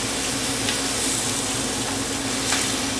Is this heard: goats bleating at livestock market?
no